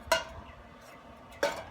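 Two metal pans set down on the grate of a charcoal kettle grill for cooking spare ribs, giving two sharp clanking knocks about a second apart in a quiet outdoor setting.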